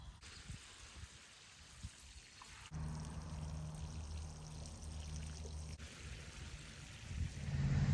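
Water poured by hand onto homestead bushes for a deep soaking, a steady, soft splashing stream that cuts in abruptly, runs for several seconds with a faint trickle, and swells again near the end, with no talking.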